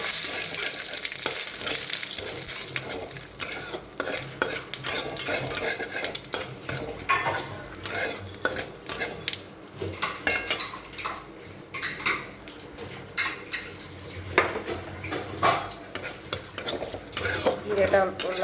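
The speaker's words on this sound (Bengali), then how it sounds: "সেই তেলেই আমি এখন শুকনো লঙ্কা, গোটা জিরে আর একটা তেজপাতা ফোড়ন দেবো।" Dried red chillies, whole cumin and a bay leaf tempering in hot oil left from frying fish heads, a constant loud sizzle under busy, rhythmic spatula scraping and clattering against the pan, with no voices.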